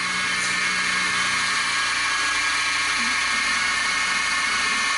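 A 1/8 inch two-flute end mill cuts Delrin on a milling machine, a steady, loud, high-pitched whine that runs unbroken throughout.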